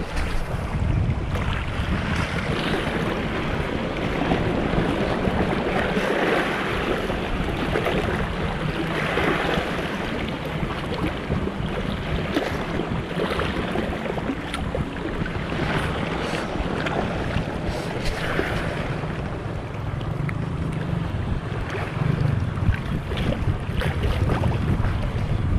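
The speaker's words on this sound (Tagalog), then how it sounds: "Malakas ang amihan mga bro ah." Strong northeast monsoon wind roars steadily across a fishing boat at sea off Real, Quezon, a loud, unbroken wash of wind and water noise with no voices.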